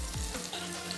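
Garlic sizzling and frying in a hot pan while cooking tinolang bangus, a steady, close, loud crackle with no voices.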